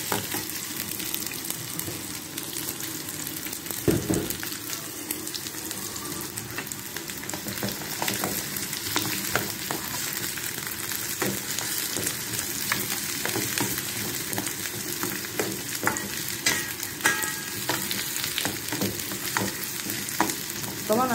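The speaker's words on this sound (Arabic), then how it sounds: "هنشوح هنا." Sauce base for sayadeya sauce sautéing in hot oil in a pan, with a steady, loud sizzle and frying crackle throughout, occasional sharper pops and stirring scrapes, no voices.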